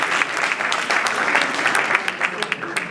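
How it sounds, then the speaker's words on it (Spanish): An audience at an academic tribute ceremony claps briskly, individual sharp claps standing out within a loud, close, steady round of applause. "Aplaudan, aplaudan."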